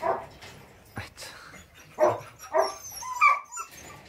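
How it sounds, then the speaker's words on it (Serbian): Several dogs, including young puppies, give short barks and a few whimpering yips at intervals near a mountain home, with brief pauses between outbursts. "Štenci na prodaju."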